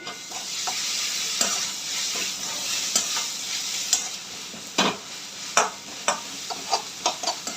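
Soy sauce, schezwan chutney and tomato ketchup are stirred in a hot, sizzling pan for veg chowmein, with a steady hiss and scraping strokes that grow sharper and more rhythmic toward the end.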